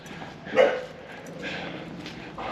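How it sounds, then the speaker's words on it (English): A dog growls and grumbles low in the background in Huay Xai, Laos, with one louder rumbling burst near the start followed by softer, sustained growling. "Oh, growly dog."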